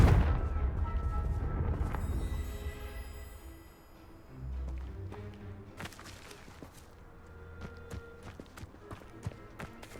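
Confringo fire spell explosions in the Hogwarts Legacy video game, a series of booming blasts and sharp impacts over rumbling low noise, with footsteps and scattered hits throughout.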